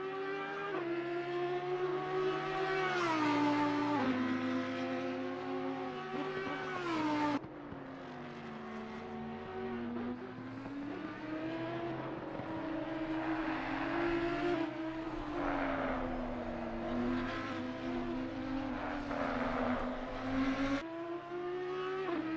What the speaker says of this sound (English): Just hearing the engine note of the car going into 5th and 6th gear